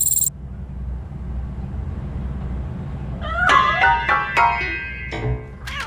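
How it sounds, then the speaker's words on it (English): A cat meows several times in a video game, a short run of clear, fairly close mews over a steady low background hum, after a brief burst of noise at the start. "That cat must be hiding inside."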